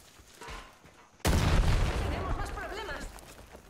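A sudden loud blast in Far Cry 5 erupts after a quiet stretch and rolls on as a sustained roar with crackling debris, while a voice talks over it.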